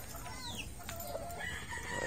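A stag rooster crows nearby against a steady background hiss, one drawn-out cock-a-doodle-doo with some clucking around it.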